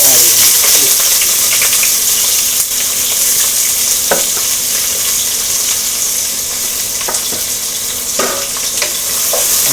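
Green chilli, ginger, garlic and three chopped onions sizzle and fry in a pan, a steady loud hiss with occasional stirring clatters, no voices over it.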